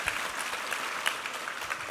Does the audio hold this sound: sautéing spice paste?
no